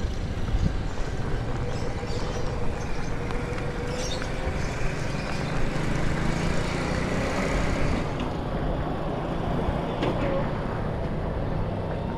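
A scooter riding along a road on a trip from Cavite to Bukana, giving a steady broadband rush of engine and wind noise that continues throughout, loud and close, with a slight drop near the end.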